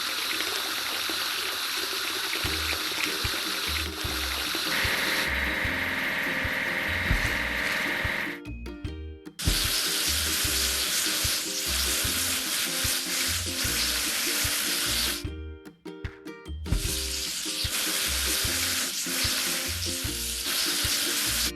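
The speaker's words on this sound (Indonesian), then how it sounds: "Ayo cuci truk drop side." Water spraying onto a drop-side truck being washed in a kids' cartoon construction game; a continuous hissing jet runs nearly throughout, broken by two brief pauses, over a light repeating background tune with no speech.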